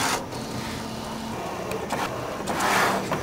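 A Spectrum 510 3D printer runs an auto alignment pattern, printing bullseye targets on a build. Its carriage gives a steady mechanical whir with shifting motor tones and a swelling pass near the end, with no voices.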